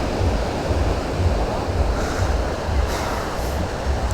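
Sea waves at Manora beach in Karachi roll in as a steady, loud surf roar with gentle swells, close by and unbroken, with no voices over it.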